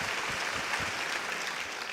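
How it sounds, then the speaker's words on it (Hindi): An audience at a business event gives dense, sustained applause for the whole stretch, with many hands clapping together and no talking over it. "तो जोरदार तालियां डॉक्टर विवेक बिंद्रा और बड़ा बिजनेस के लिए"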